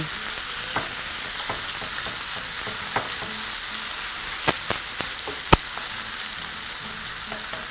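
Pork chop pieces sear in a hot pan with a constant loud hiss and sizzle, broken by a few sharp crackles and pops, no voices.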